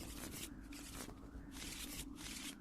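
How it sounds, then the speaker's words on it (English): Cards and tiles for the Castle Ravenloft board game being shuffled close up, repeated crisp riffling bursts with short pauses between them and no talking. "let's now shuffle all the cards"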